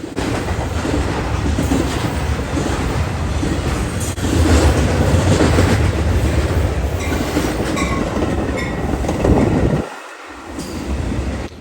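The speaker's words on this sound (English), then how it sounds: "here comes a Metro" A Metra commuter train pushed by an F40PH-2 diesel locomotive rumbles steadily past at close range, with a continuous roar of wheels and rail noise that briefly dips before swelling again.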